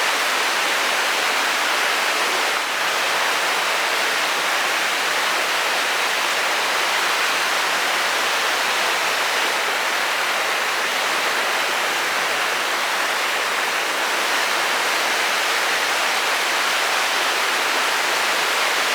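A river rushes steadily past an inn in Maggie Valley, North Carolina, on a cold winter day. The broad, even wash of flowing water holds constant and fairly close throughout, with no voices.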